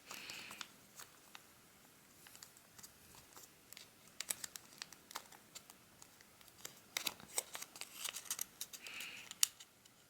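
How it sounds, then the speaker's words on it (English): Paper being creased and folded for a buffalo skull origami model: quiet, sporadic crisp crinkles and sharp taps, close by, with no talking. "So I'm gonna fold it up and then back down like so."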